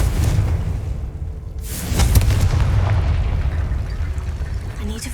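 A Confringo spell explosion in Hogwarts Legacy, a deep rumbling boom that swells after a short whoosh, with heavy low roar and crackling debris lingering afterward; a voice is briefly heard beneath.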